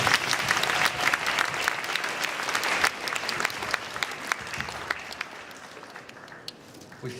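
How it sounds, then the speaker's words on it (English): An audience at a cosplay awards ceremony claps loudly and densely, the applause holding strong before gradually thinning and fading toward the end, with a faint murmur of voices mixed in. "Round of applause."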